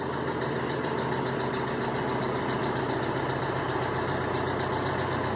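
A VW Amarok pickup engine with a charging fault idles steadily, a continuous close rumble with no one speaking.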